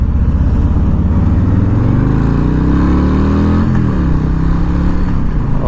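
A 2021 Harley-Davidson Low Rider S motorcycle pulls away on a first ride, its V-twin engine rumbling loud and close as the revs climb steadily, then dip with a gear change and build again.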